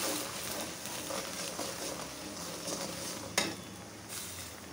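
Bombay chilies, garlic, onion and mango for a sweet-sour-hot pickle sizzle steadily in hot oil, a continuous close frying hiss with a brief sharp clink of utensil partway through.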